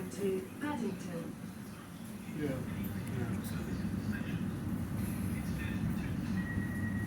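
A Class 387 electric train hums and rumbles steadily nearby, with faint squeals and a brief voice early on.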